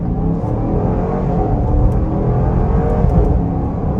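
A 2023 Jeep Grand Cherokee Summit with the 5.7-liter Hemi V8 accelerates hard off the line, its engine a steady, loud low rumble with a rising whir, heard from inside the cabin with no talking.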